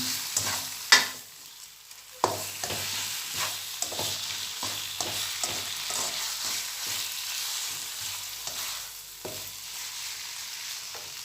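A spatula scrapes and stirs tamarind chili paste around a pan in a steady run of rhythmic strokes over a soft, continuous sizzle.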